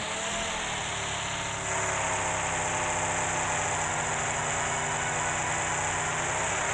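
A car engine driving in the mobile game PUBG Mobile, a loud continuous droning hum with steady vibration that holds throughout without pause.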